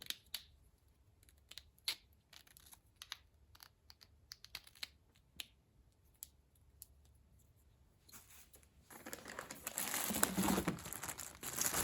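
Plastic packaging crinkles and rustles close up while GoPro Hero 3 accessories are unpacked, starting as scattered small crackles and clicks, then building into a louder, dense crinkling burst near the end.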